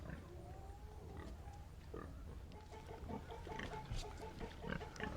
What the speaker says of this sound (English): Pigs look like everybody's good here.